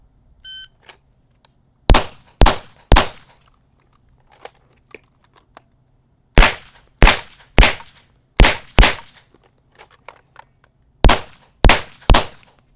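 Pistol shots at an outdoor range during a reload drill: sharp, loud reports in quick clusters of two and three, broken by a brief pause for the reload, with faint handling clicks in between.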